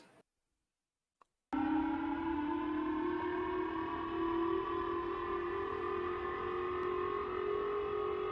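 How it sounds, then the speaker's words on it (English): Air raid sirens in Japan wail after a North Korean ballistic missile launch: after a short silence, a loud, sustained, steady tone holds on without pause. "Air raid sirens wail in cities and towns over Japan after North Korea fired a ballistic missile over the country."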